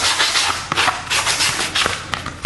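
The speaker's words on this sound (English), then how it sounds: "your sanding block or your buffer block to just sand away this fussy side like this." A sanding block rubbed over the edge of corrugated cardboard, loud close scratchy strokes repeating in a quick back-and-forth rhythm, with no talking.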